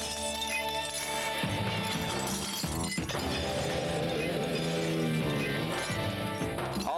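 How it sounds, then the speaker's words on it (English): A glass recycling machine at a recycling facility handles a stream of bottles and jars with continuous loud crashing, shattering and clinking over steady mechanical rumble, with no pauses. "Okay, right here we have a glass machine."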